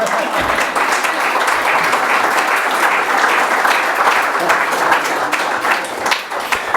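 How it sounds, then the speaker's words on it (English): Applause from an audience at a historical society program, a thick, continuous roar of clapping that stays loud and even for nearly seven seconds. "You can applaud."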